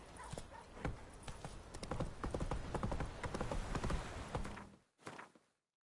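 A horse gallops in a PS4 video game, with rapid, rhythmic hoofbeats that sound close and steady for about five seconds, then stop abruptly, followed by one short burst and silence.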